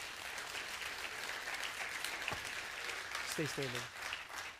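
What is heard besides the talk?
congregation applause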